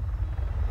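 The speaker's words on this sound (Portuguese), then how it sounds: "É um helicóptero, né?" A helicopter from a Tomb Raider video game gives a steady low rotor rumble, short and fairly loud, with no voices over it.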